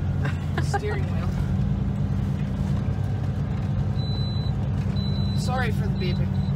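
Seatbelt warning chime inside a transport truck cab, faint repeated tones over a steady low diesel engine rumble, with people talking nearby.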